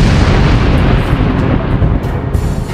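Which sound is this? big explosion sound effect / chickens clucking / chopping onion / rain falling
big explosion sound effect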